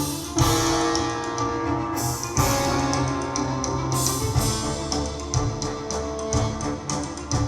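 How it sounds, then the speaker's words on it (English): Orchestral fight music from the stage play Moriarty, a dense, driving score with pulsating strings, bass trombones and percussion hits, loud and continuous with sharp accents throughout. "This is the fight music we used in Moriarty."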